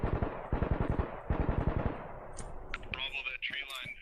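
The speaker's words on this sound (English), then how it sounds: "I heard suppressed gunfire" Video game gunfire rings out during a tactical ambush: rapid bursts of automatic fire crack close and loud at first, then give way to fainter, scattered shots and muffled effects.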